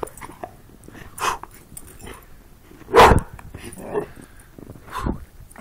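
Dog barking and yipping while playing in deep snow, a few scattered barks and whimpers of varying loudness against a quiet outdoor background.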